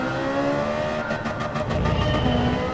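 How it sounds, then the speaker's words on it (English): Ferrari race car engine in Gran Turismo 7 revving hard against the rev limiter during qualifying, a loud continuous engine note that breaks into a rapid stuttering pulse partway through, heard alone without talk. "Fantastic sounding car, this Ferrari."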